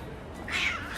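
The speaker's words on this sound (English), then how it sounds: "found a couple of cats." A cat gives a single short meow, close and fairly loud, over outdoor street ambience during a walk in Málaga's old town.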